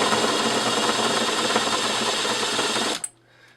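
A power drill whirs steadily at full speed for about three seconds while boring a hole in an RC car part, then cuts off abruptly and a quiet hum remains.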